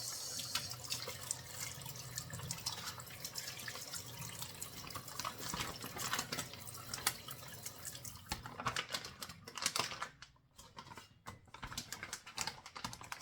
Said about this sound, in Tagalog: Hugasan natin ang plastic bag itapon